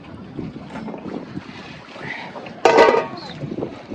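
Wind buffets the microphone on a river bank beside fishing boats, gusting unevenly with a sharp loud burst near the end, while people talk faintly underneath.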